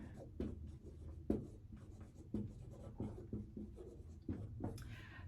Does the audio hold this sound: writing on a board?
yes